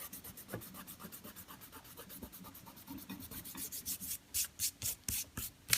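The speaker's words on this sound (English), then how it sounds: "we're about ready to rub off our masking fluid so that we can see our snow in the background" Masking fluid being rubbed off watercolor paper, a steady rhythmic scrubbing of quick strokes that grows louder and more forceful toward the end, close and alone with no talk.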